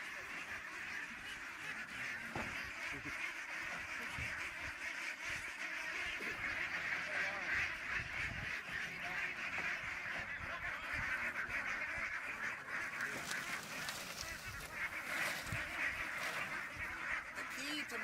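Farm ducks and geese honk and quack near a poultry shelter, with a continuous chorus of calls, moderately loud, and some faint voices mixed in.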